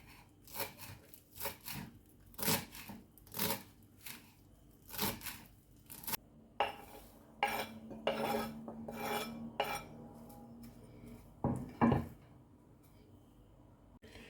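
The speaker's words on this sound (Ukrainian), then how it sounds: "Зелень петрушки, сельдереїв теж дрібненько наріжу." A knife chops parsley and celery greens finely on a board: a quiet, irregular run of sharp strikes, some in quick bursts and some spaced apart, with no talking.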